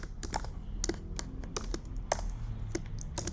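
Someone types on a computer keyboard while writing code: irregular bursts of crisp, close keystrokes over a faint background hum, with no talking.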